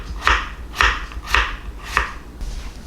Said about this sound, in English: Cut those in quarters, they're pretty big